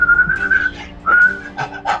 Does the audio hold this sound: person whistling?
yes